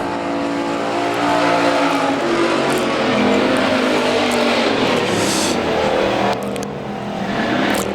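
Pure stock race cars lapping a dirt speedway, a dense roar of several engines revving and droning continuously, swelling and fading as the pack circles, loud and sustained throughout.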